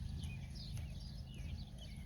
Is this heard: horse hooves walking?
yes